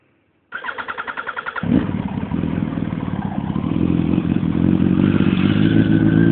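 A 2004 Yamaha R1 custom motorcycle is cranked with a short rapid starter whir, then fires into a loud, close engine that settles into a steady rumbling idle and grows slightly louder toward the end, with no talking.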